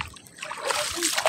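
A small seashell-like object splashes back into shallow seawater at the shore, a brief wet splatter near at hand, with voices speaking around it.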